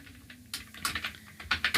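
Keys tapped on a computer keyboard while entering a name in WordPad, a quick run of close, crisp clicks in irregular bursts with no talking.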